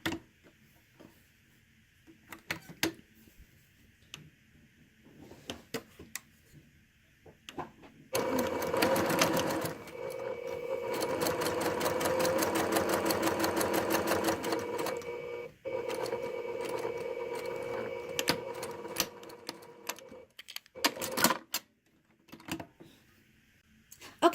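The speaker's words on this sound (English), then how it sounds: "So I am going to make sure I stop sewing at that point." A sewing machine stitches a shift sleeve seam in one steady run of rapid mechanical ticking lasting several seconds, bracketed by quieter handling taps and fabric rustles before and after.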